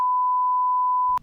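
A steady pure-tone censor bleep holds for about a second over speech, loud and unbroken, then stops abruptly as a brief snatch of voice slips through.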